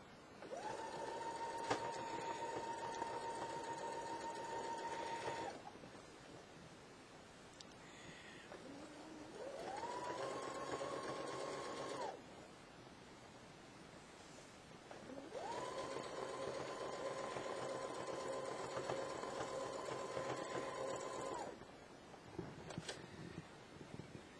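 Sewing machine stitching a fleece hoodie sleeve cap flat onto the body, running in three steady whirring bursts of several seconds each with short pauses between, close and clear with no talking.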